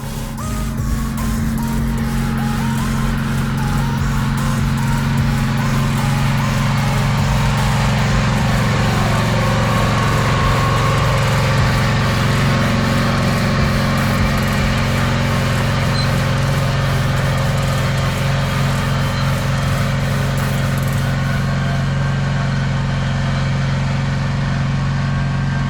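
A farm tractor engine runs steadily during spring field work, a loud, close, continuous low droning rumble that barely changes and has no voices over it.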